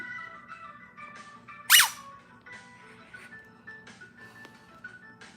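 A squeaky dog toy gives one sharp, loud squeak, standing out against a quiet room with faint background tones and no talk.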